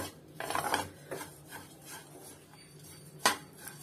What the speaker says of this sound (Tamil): நல்ல ஓட்ஸ் சூடாகுற அளவுக்கு நல்லா வறுத்து எடுத்துக்கலாம்.